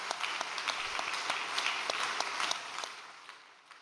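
Audience applause at a religious gathering, dense steady clapping that holds for a few seconds and then thins out and fades.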